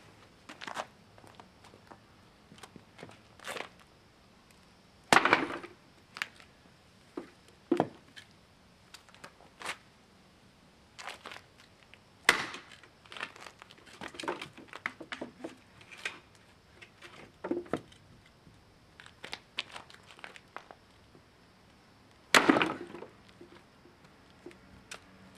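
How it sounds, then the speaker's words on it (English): A Trucker's Friend utility tool strikes and breaks apart a water-saturated wet log, giving several sharp, scattered knocks and cracks spread across quiet background. "So first thing we'll do is see how it works on splitting or breaking up some wood."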